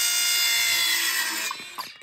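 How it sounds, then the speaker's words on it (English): Plastic pipe being cut with a power tool while fitting out a koi pond, a loud steady grinding whine that tapers off into a few short knocks near the end. "This is the best way of cutting pipes."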